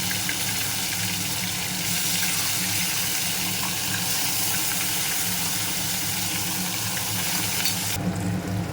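Rinse water from a mixer grinder jar hits a pan of hot oil with ginger, garlic, onion and tomato masala for chicken biriyani, a loud steady sizzling hiss throughout with no talk.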